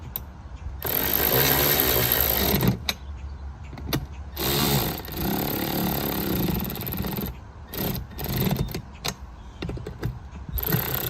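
Bolts being power-tightened during assembly of a Gorilla heavy-duty 7 cu ft poly dump cart: loud, close bursts of driver whirring and rattling, separated by brief pauses, with no talking.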